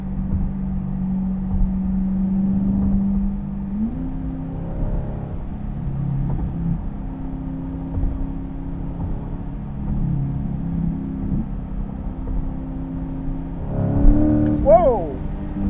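A 2020 C8 Corvette with a Fabspeed Valvetronic aftermarket exhaust idles with a deep rumble, then revs several times, its pitch climbing and falling, ending in a sharp, loud rev near the end.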